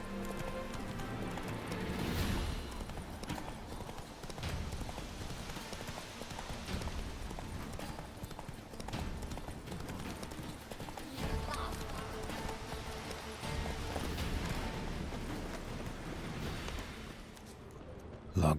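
Hooves of the horse Roach clopping rhythmically in The Witcher 3, a steady galloping beat with occasional snorts, layered under game music and ambience, with someone talking over it.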